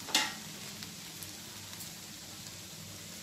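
A carrot and beans stir-fry sizzles in a pan as it is mixed, with a sharp scrape at the start, then a soft, steady crackle and faint stirring taps.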